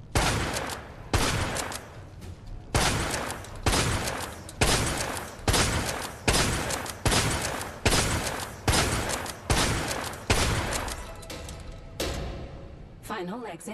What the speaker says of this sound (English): Let's just go to town with the shotgun